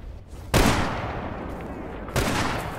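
Enemy gunfire in S.T.A.L.K.E.R., two loud sharp shots about a second and a half apart, each with a long echoing tail, no talk.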